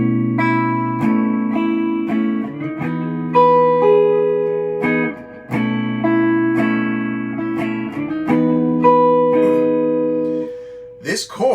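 Electric guitar voicing a slash chord several times over, with ringing sustained strums and short picked phrases between them, clear and up close with no talking.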